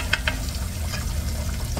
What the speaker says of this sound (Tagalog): hintayin lang natin maluto yung ating french fries